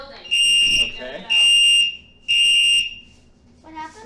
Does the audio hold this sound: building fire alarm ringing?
yes